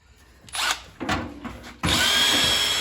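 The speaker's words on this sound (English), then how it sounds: "I'm going to do a little more drilling on that one." A power drill bores holes in the body of a 1951 Ford F1 truck. Two short, loud whirring bursts are followed by a sustained, close, high-pitched whine.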